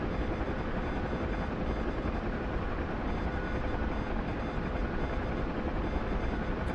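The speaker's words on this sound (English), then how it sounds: "We're in a helicopter, we're not flying that fast." A Huey helicopter in a combat flight game over Afghanistan, a loud, steady rotor and turbine roar filling the whole stretch with no pauses and no talking.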